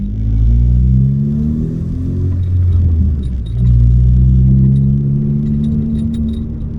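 A turbocharged Ford Focus ST fitted with a Sidewinder turbo kit accelerates, its deep engine rumble swelling, easing briefly, then surging again with rising revs, heard close from inside the car with no talking.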